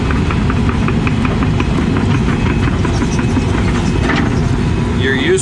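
Cold excavator with cold hydraulics grading, a steady loud engine drone with knocking texture running continuously throughout.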